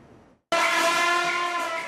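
A New York City subway train roars in abruptly after a quiet moment, loud and close, with a sustained rumbling rattle and a bright tonal screech or horn-like ring over it.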